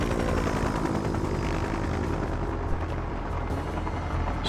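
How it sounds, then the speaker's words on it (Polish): A helicopter in the video game Just Cause 3 drones steadily close by, rotor thumping under a constant engine roar with no pauses. "Śmigłowiec poszedł, ale to tam nieistotne."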